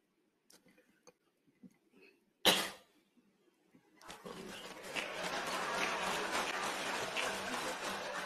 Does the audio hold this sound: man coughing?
yes